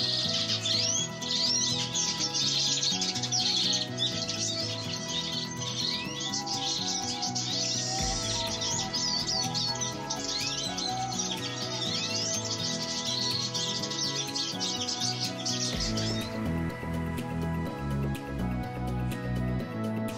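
Siskins and goldfinches chirp and twitter almost continuously from nearby in an aviary, overlapping calls over a steady background hum, with a few lower clicks and knocks toward the end.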